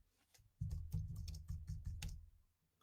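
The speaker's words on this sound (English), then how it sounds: "So I'm going to type in a comment." A comment is typed on a computer keyboard in a quick, uneven burst of soft key clicks that lasts about two seconds and stays faint and close, with no voices.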